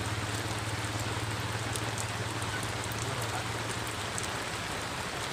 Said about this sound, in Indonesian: hujan bukan bohongan lo